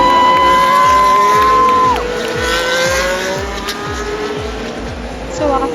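Formula 1 cars race during Canadian Grand Prix qualifying, loud engine whine and repeated rapid passes close by, with a watching crowd murmuring underneath.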